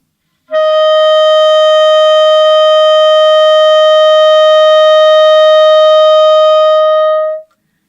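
One loud, steady clarinet tone held for about seven seconds, bright and unwavering, then cut off cleanly, with nothing else around it.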